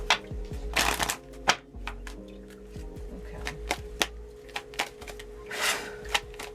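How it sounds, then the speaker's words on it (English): An oracle card deck is shuffled by hand in a quiet room, giving a run of soft, riffling card flutters and slaps in short bursts, close and fairly faint. "One more shuffle."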